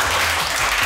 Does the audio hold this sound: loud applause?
yes